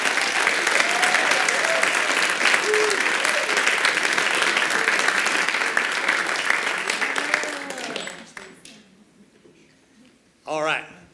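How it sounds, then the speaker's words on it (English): A school board meeting audience gives students a long, loud round of applause with murmured voices mixed in, then it drops away to near quiet before a short burst of speech. "Let's give them all one more round of applause."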